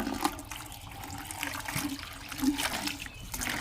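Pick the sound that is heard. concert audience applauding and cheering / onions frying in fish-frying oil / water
water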